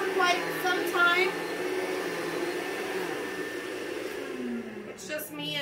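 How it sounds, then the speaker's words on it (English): A Rainbow vacuum cleaner runs over a stained floor, a steady loud whining motor drone holding through the whole stretch, with brief faint voices near the start and end. "I'm going to vacuum their stain really good."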